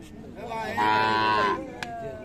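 A Friesian cow gives one loud, close, drawn-out moo lasting under a second at a busy cattle market in Raniganj, Dinajpur, with steady crowd murmur before and after.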